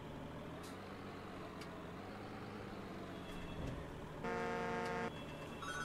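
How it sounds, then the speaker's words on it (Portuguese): A combine harvester's engine idles with a low, steady rumble in the Farming Simulator 17 video game, faint and continuous, with a brief hissing burst and a short beeping tone near the end. "hoje vocês vão conseguir ouvir o ronco dela"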